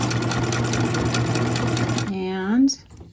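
Sewing machine back stitching on a waterproof baby bib, a fast steady whirring hum that stops abruptly, followed by a brief mechanical squeak, close and clear with a voice talking over it.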